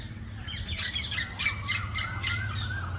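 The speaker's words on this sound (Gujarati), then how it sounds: "પોપટીઓ જો" Several parrots squawk and chatter in a series of harsh, rising calls over a low, steady background hum, near a neem tree by a village Mahadev temple.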